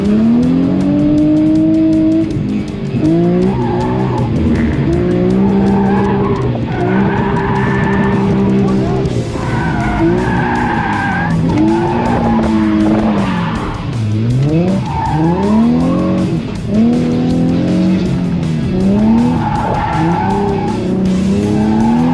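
A Nissan 350Z drifts hard, its tires shrieking in long wavering squeals over a loud, revving engine that rises and falls through repeated slides, close and continuous for the whole stretch.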